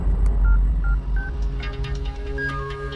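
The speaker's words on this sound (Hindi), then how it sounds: "रिंगटोन अच्छी" Phone ringtone made of short electronic beeping tones in a quick melodic run, fairly close and clear over a low background rumble, with no one speaking.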